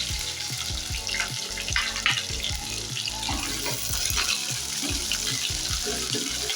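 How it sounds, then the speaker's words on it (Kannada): Chopped onions frying in a pan for bitter gourd gojju, a dense continuous sizzle with repeated low thuds and rustles underneath, steady and close, with no speech. "ಹಾಗೆಯೇ ಈರುಳ್ಳಿ ಹಾಕ್ತಾ ಇದ್ದೀನಿ, ಕಟ್ ಮಾಡಿ ಇಟ್ಕೊಂಡಿರೋದು."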